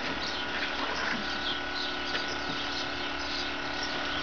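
Airlift pump in a vertical pallet planter pushing water upward with a steady bubbling, gurgling wash that stays close and continuous throughout.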